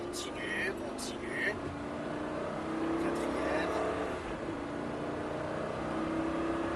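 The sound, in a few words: car accelerating on a race track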